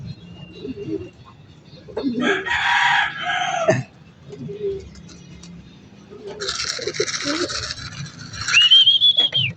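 A tame pet rooster clucks and crows close by, with short bursts of clucking followed by a longer crow that rises at the end, while someone talks quietly in between.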